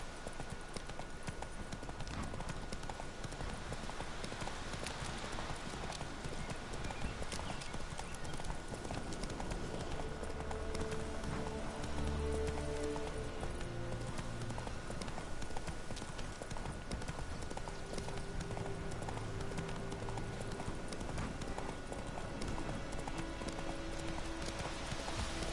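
Roach the horse in the Witcher 3 game gallops steadily, a continuous rhythmic clip-clop of hooves at moderate distance over a constant ambient bed, with brief tonal music or voice snippets midway.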